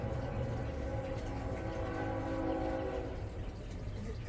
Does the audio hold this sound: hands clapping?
no